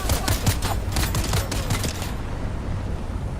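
Rapid bursts of gunfire from an enemy camp in Dune Awakening, a dense crackling volley over the first two seconds that then thins into a lower ambient rumble.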